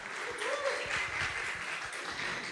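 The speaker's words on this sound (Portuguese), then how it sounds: "vocês merecem essa salva de palmas" A crowd claps steadily for a consultancy team, Samaúma, at a corporate sustainability event, the applause a dense, even patter that holds at one level throughout with some voices mixed in.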